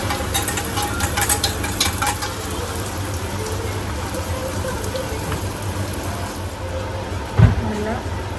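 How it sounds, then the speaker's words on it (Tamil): Onions sizzle in hot oil for fried egg puttu, a continuous fairly loud frying hiss with a few stirring scrapes early on and a single dull knock near the end. "வெங்காயத்தையும் போட்டு நல்லா மிக்ஸ் பண்ணுவோம்"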